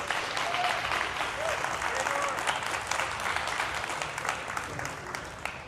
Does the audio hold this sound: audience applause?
yes